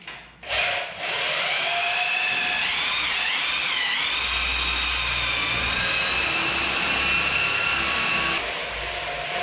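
A vacuum cleaner starts up with a short surge, then whines steadily and loudly for several seconds while a floor is cleaned before tiling over PVC vinyl, and it winds down near the end.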